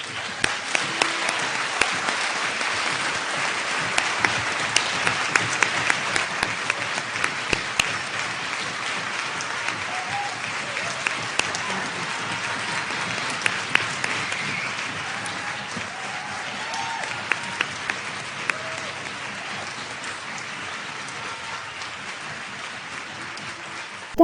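Enthusiastic audience applause follows a speech by Cecilia Suarez, a long wash of dense clapping with sharper individual claps popping out, holding steady for over twenty seconds with faint crowd murmur.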